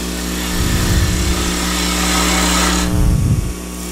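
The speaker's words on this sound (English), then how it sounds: "I turn the tool, the spindle gouge in, so I'm forcing this round corner." A spindle gouge cutting a wooden acorn on a spinning lathe: a steady motor hum with two bursts of rougher, louder cutting noise as the tool bites into the wood, up close and with no talk.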